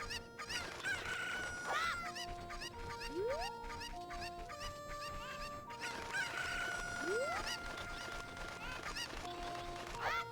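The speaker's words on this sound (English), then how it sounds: "I swear there's a chicken hiding in a box somewhere." Chickens in Zelda: Ocarina of Time, a rooster crowing and clucking twice over a busy melodic game tune, moderately loud and repeating with no talking.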